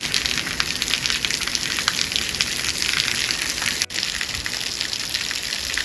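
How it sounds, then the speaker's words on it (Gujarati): Heavy rain pours down on a farm field in a loud, dense, unbroken roar, with water gushing and drops pattering hard close by. "આ જો વરસાદ જોરદાર પાછો ચાલુ થઈ ગયો"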